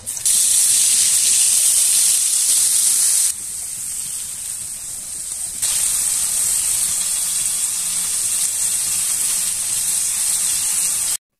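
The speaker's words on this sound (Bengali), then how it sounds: "এখন আবার টমেটো গুলো ভেজে নিব।" Tomatoes frying in hot oil for an eggplant and tomato bharta give a loud, steady sizzling hiss. It dips briefly partway through, then resumes at full strength, with no voices.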